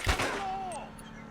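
A single sharp report from a .357 revolver fired in the Uncharted: Drake's Fortune game, a brief loud crack with a short ringing tail, followed by a faint voice.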